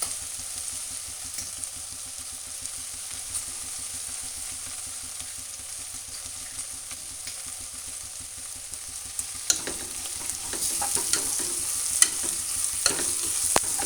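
Vegetable pulao ingredients stirred in a hot pan: a steady close sizzle with soft, repeated spatula scrapes that grow busier and louder toward the end, with no voices.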